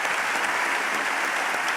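Applause from a university audience at a forum for a presidential candidate, a brief, dense burst of crowd clapping that holds steady and fairly loud throughout.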